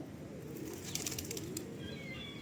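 A pigeon on a city street coos softly close by, with a brief flutter of wings and faint chirps above a low, steady hum of street noise.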